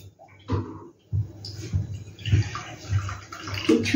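Water poured into packet milk in a pot on the stove for rasmalai: intermittent splashing and trickling bursts with soft clinks, close by, no talk.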